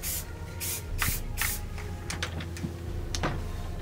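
Short hissing bursts of spray paint in coyote colour hit the lower receiver and grip of a rifle, several close spurts in quick succession with a steady low hum beneath.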